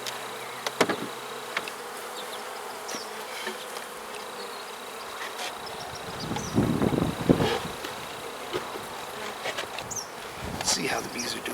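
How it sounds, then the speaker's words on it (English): Bees at a hive with a liquid feeder under its upper lid hum in a soft, continuous buzz, with a few clicks and rustles and a louder stretch around the middle. "the bees are feeding, which is good"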